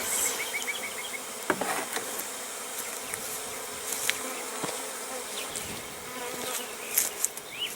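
Honey bees buzz steadily throughout, a dense continuous hum with a few sharper knocks and clicks scattered through it, as bees are shaken into a bucket.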